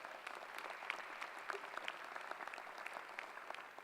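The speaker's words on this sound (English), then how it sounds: "Give her a big round of applause." Steady applause from a large audience at a university convocation, even and continuous throughout, heard from a distance and fairly soft.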